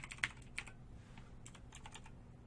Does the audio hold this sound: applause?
no